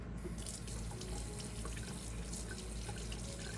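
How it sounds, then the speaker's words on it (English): Clean tap water runs steadily over a plant's roots to rinse away old soil, a continuous close splashing stream with no voices. "take the plant and rinse it under clean running water"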